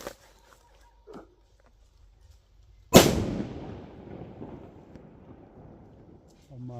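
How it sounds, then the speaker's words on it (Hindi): A firecracker thrown at monkeys in trees goes off with one sharp, loud bang, then a long rumbling echo slowly fades out. Before the blast there are only faint small rustles. "ठीक है, मैं फेंकता हूँ पटाखा।"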